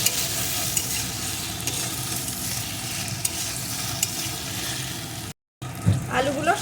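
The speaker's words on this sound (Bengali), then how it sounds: "এখন আলুগুলো সুন্দর করে ভেজে নেব" Steamed potatoes with a pinch of salt fry in hot oil, giving a dense, close sizzle that holds steady, then breaks off briefly before a little stirring noise returns.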